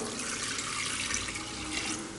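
Water (600 ml) poured into a pressure-cooker pot holding fish and whole garlic cloves for broth, a continuous, steady splashing gush close by that lasts the whole moment.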